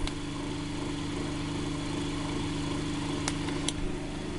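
A single-phase generator driven by a 9-volt DC motor runs steadily at about 1554 RPM, giving a constant even hum with a couple of faint clicks near the end.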